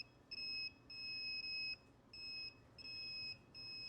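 A KAIWEETS KT301P circuit breaker finder emits steady, high-pitched electronic beeps that switch on and off in uneven bursts, each lasting about half a second to a second, clear and close over a faint background hum.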